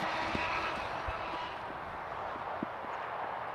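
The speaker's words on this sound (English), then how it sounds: "motorcycle or something that was just really loud, I think on the freeway" A loud motorcycle on a nearby freeway makes a steady, heavy broadband roar that fills the whole stretch without easing, with no talking over it.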